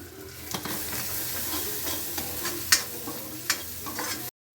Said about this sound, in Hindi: तो बस ग्रेवी को मैं भून लूँगी